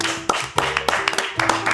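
A small group of people in a kitchen, gathered for a blind tortilla tasting, give a few scattered hand claps. The claps are close and uneven, and a voice and a steady hum run underneath.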